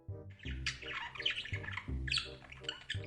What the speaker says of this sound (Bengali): এই 3টে পাখি এখানে থাকে, আর এইগুলো সবগুলোকে আমি এখানে রেখেছি।